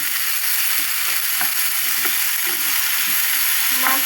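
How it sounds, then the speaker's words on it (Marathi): Butter sizzles as it goes into soya chunks frying in a pan, a steady close crackle with faint stirring scrapes and small pops throughout, no talking. "आतां तितून थोडो बटर घालपाचो"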